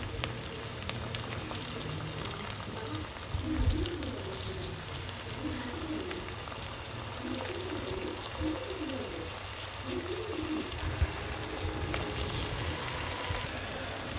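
Tomatoes dropped into a hot pan for a drumstick, potato and cashew curry, giving a steady, close sizzle and bubbling frying noise that runs throughout without talk.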